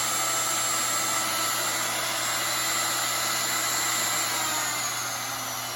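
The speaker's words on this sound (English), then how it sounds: "I'm going to go ahead and try the router. It's actually running it." Electric router running on a portable power station, a loud, steady whirring motor hum that holds constant throughout and fades slightly at the end.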